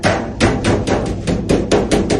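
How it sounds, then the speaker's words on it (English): A hammer taps close up on a metal filter rack being fitted into a return duct: about nine quick, sharp metallic knocks in an irregular rhythm. "I'll give it a little tap here with the hammer"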